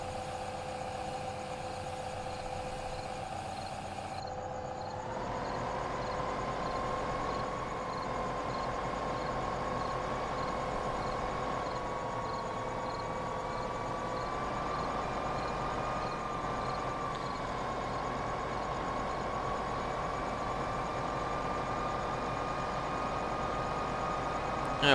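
Tractor engine in Farming Simulator 2015 running steadily, a close, continuous mid-pitched drone that rises slightly in pitch and level after a few seconds, then holds an even hum with no talk.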